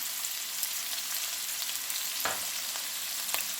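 Onion, green chili, curry leaves and a dried red chili frying in a pan for mutton sukka, giving a steady bright sizzle with a couple of brief stirring scrapes, fairly quiet and close, without speech.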